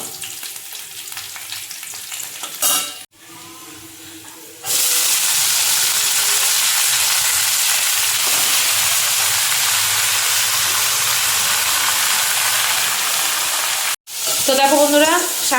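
Food frying in a pan at home, a loud continuous sizzle and hiss that cuts out briefly twice, with some quieter kitchen sounds before it begins.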